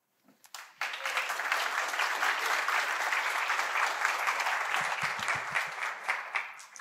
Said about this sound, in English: a big round of applause for Anne-Greeth for her talk.